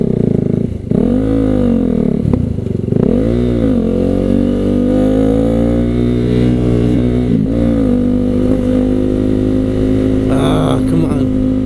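KTM Duke 390 single-cylinder motorcycle engine droning steadily while riding in sixth gear, running lean, with a loud sustained hum that dips and swells as the throttle changes, plus a brief higher rev near the end.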